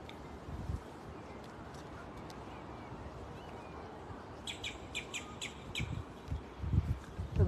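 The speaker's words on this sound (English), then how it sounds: "The birds are chirping." Birds chirp along Shem Creek in Mount Pleasant, South Carolina: a short run of faint, high, rapid chirps rises about midway over a steady outdoor background, with a few low thumps near the end.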